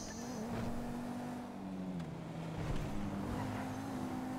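A car cruises along a motorway in Grand Theft Auto V, its engine holding a steady hum with slight pitch shifts, joined by the faint rush of other traffic.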